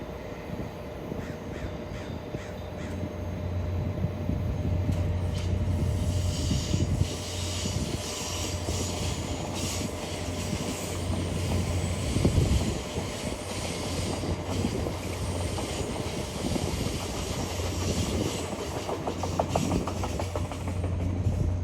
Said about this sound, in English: one of Caltrain's EMUs, the train set gliding effortlessly around the yard.